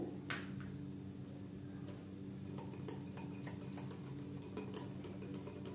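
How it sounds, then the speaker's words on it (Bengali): Besan (gram flour) batter being whisked with water in a bowl, with repeated light clinking taps of utensil against the bowl in an irregular rhythm over a low steady hum, close and fairly soft. "এবার এখানে অল্প অল্প জল দিয়ে আমি একটা ঘন ব্যাটার তৈরি করে নেব"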